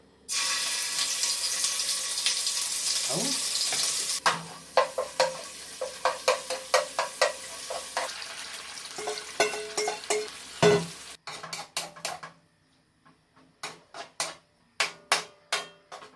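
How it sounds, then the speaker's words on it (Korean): Minced garlic stir-fries in two spoons of cooking oil for seasoned fernbrake, opening with a dense hiss that cuts off, then sharp spatula knocks and scrapes follow in irregular bursts, quieter pauses between, no talking. "식용유 2스푼, 간마늘 한 스푼 넣고 볶아줍니다."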